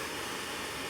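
A hair blower runs steadily and loudly, drying hair after a rinse with a constant broadband whoosh and no voices over it.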